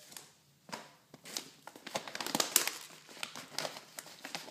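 A mylar bag filled with white rice is handled, giving irregular bursts of crisp crinkling and rustling up close, quiet overall and with no talking.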